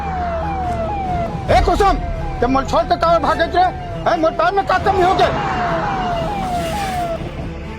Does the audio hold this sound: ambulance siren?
yes